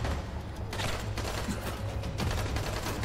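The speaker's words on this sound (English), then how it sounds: "I hear gunshots" Bursts of gunfire ring out in the video game Dying Light, several sharp cracks over a steady low rumble and mechanical clatter, heard at a moderate distance with no talking.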